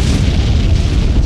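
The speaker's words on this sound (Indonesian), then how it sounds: "Setelah Hajime menghampiri sumber ledakan tadi" An explosion in the anime Arifureta: a dense, loud, low booming rumble that fills the whole short moment, with no talk.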